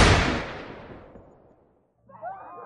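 A single loud gunshot blast opens, its boom decaying over about two seconds, followed by a short burst of faint, screechy, high-pitched sound.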